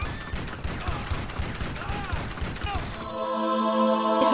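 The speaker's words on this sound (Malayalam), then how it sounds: "ഒരു നല്ല ഗണ്ണെടുത്ത് വേഗം ഇവന്മാരൊക്കെ വെടിവെച്ച് അങ്ങ് തീർക്കാം ഗൈസ്" Gunfire in the video game GTA 5 crackles as rapid, repeated shots in close bursts for about three seconds, then gives way to a steady humming tone.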